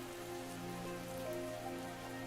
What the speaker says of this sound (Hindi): बारिश तो थमने का नाम नहीं ले रही है